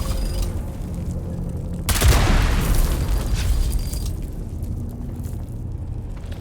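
A mine in the Dune Awakening video game is shot and explodes: one sudden loud blast about two seconds in, followed by a long rumbling, crackling decay over a low background hum.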